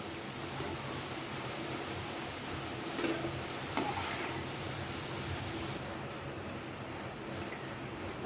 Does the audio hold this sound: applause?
no